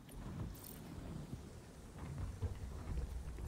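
An approaching storm in the video game The Cycle Frontier rumbles low and continuously, with distant thunder and rain-like noise building steadily, no speech over it.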